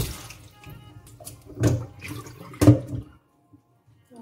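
Lettuce being washed under a running kitchen tap, with water splashing and gurgling in uneven bursts, two louder surges of rinsing before the flow stops and only a few faint drips remain.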